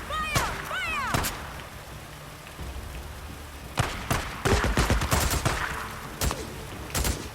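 Bursts of gunfire in the zombie survival game Days Gone, loud rapid volleys in separate clusters, with a voice talking in between.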